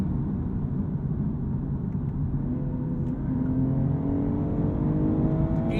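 A 2022 BMW M240i xDrive Coupe accelerates hard, its engine rumbling from inside the cabin as the pitch climbs steadily, with a brief break for a quick shift before it pulls again.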